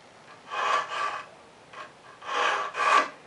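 A file rasps across the teeth of a cheap tenon saw during sharpening, four close, quiet strokes in two pairs with short pauses between them.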